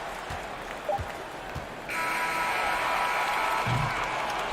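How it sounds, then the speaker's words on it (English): An arena crowd at an NBA basketball game in Memphis between the Grizzlies and Minnesota breaks into applause, a sudden swell of clapping that starts partway through and holds steady, heard at a distance over faint background murmur. "Please give a big round of applause for your Grizzlies"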